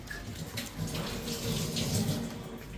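Water pours and splashes as it is mixed into a thick batter for Bengali bread chop and aloo chop, a steady, close, wet sloshing that carries on without pause and with no voices over it.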